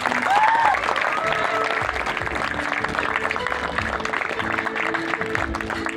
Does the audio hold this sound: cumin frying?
no